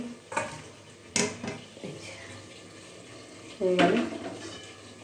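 Goat mutton being stirred and fried in a pot on a kitchen stove, with a few sharp metal clinks and scrapes of a spoon against the pot over a steady low sizzle, plus a louder clatter near the end.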